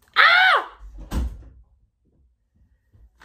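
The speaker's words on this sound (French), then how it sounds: "Ferme la porte." A door swings shut in a home: a rising and falling hinge squeal comes first, then a solid, fairly loud thump as it closes, followed by quiet.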